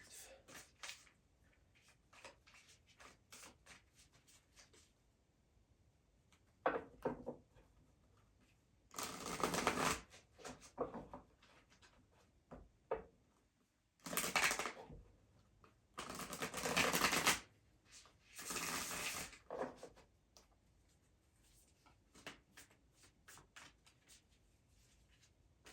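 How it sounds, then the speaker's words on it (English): Tarot cards are shuffled in several riffling bursts separated by quiet pauses, close and crisp, with light handling noises between. "we will begin to shuffle the cards"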